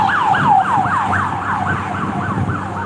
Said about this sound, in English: like sirens is always going, ambulance always going